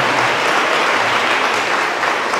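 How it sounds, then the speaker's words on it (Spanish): A church congregation applauds during a baptism, steady dense clapping from many hands that stays loud and even throughout, with no voices over it. "Vamos a darle un aplauso a Loriana, que hoy va a ser bautizada"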